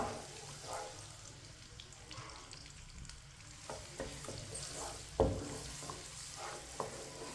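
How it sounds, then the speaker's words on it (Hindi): Finely chopped onion frying in a pan while a spoon stirs it, giving a steady close sizzle with scraping and clinks of the spoon throughout and no talking. "इसे ऐसे ही चम्मच चलाते हुए ब्राउन करना है"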